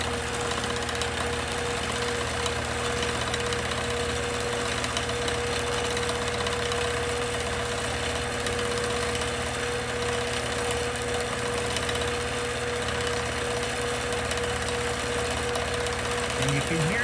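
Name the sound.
sewing machine free-motion quilting, stitch regulator off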